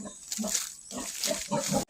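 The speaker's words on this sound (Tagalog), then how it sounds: "May baboy din." A pig on a rural countryside farm grunts and oinks in several short bursts close by, with brief pauses between the rough, nasal calls.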